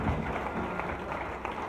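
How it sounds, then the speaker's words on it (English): A church congregation claps hands together for Jesus, a dense, steady crowd of overlapping claps filling the room at moderate loudness. "Clap your hands together for Jesus"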